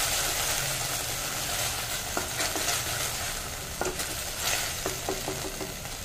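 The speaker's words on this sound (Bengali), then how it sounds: "এবার এটা ভালো করে কষিয়ে নিতে হবে।" Ginger paste and tomato puree frying for potol dorma, a dense continuous sizzle close up with repeated spatula scrapes and taps against the pan through the middle and end, no talking.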